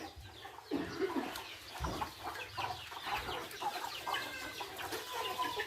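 A flock of farmyard chickens clucks continuously nearby, with overlapping calls and scattered low thumps against an outdoor background.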